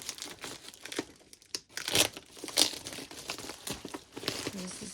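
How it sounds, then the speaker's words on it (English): Bubble wrap packaging around a mailed Halloween card is handled and unwrapped up close, giving irregular bursts of crinkling and rustling plastic with a couple of sharper crackles and pauses between handfuls. "This is bubble wrap, so it's shipped nice and safe."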